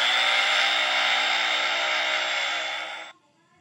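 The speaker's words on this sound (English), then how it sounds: "Vacuum cleaner." A household vacuum cleaner runs with a loud, steady whirring roar for about three seconds, then cuts out abruptly and leaves near silence.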